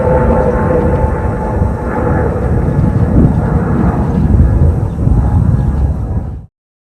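A passenger airplane carrying a dog named Vika takes off, heard from a distance as a broad, steady roar of jet engines that cuts off abruptly at the end.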